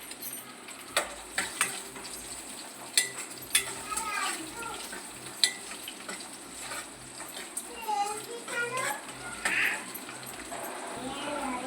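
Green peas tumble into a pan of frying semiya upma, bringing scattered clinks and a soft sizzle, while a voice talks over the cooking throughout.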